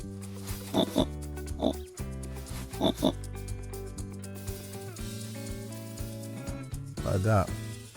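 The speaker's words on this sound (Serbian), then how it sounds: "Pa da, to je svinja." A farm pig oinks and grunts in a few separate short bursts, two early and one near the end, over a continuous musical background.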